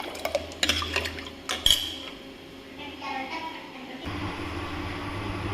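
Paruppu kuzhambu stirred in a metal pot, a few sharp clinks and scrapes of a spoon against the pot early on, then a softer steady background, close by.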